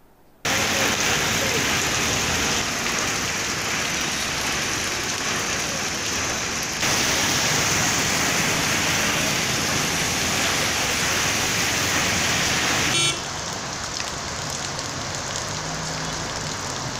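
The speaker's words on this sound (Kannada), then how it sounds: "ಉಡುಪಿಯಲ್ಲೂ ಇಂದು ಮಳೆ ಮುಂಜಾನೆಯಿಂದಲೇ ತುಂತುರು ಮಳೆ ಆರಂಭವಾಗಿದೆ" Morning drizzle falls in Udupi, a dense, even patter of rain on surfaces that holds steady throughout, with a slight drop in level near the end.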